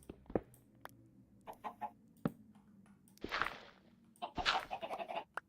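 Chickens cluck in the Minecraft video game, with a few soft isolated clucks followed by two louder, busier bursts of clucking that sound close by, with no talk.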